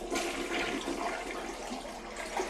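A white elongated Project Source Danville toilet flushing, a continuous rushing surge of water lasting the whole stretch at moderate level, with no talking.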